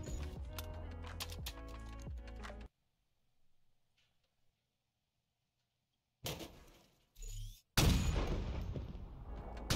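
Sniper rifle rounds in Halo Infinite hitting a Rocket Hog: a dense flurry of sharp cracks opens the clip, then a silent gap, then several loud, abrupt blasts and impacts near the end.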